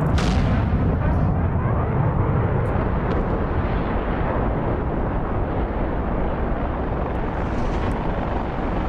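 A SAM missile launch in the DCS World combat flight game, a loud, sustained, close roaring rush with a dense rumbling low end that holds steady for several seconds.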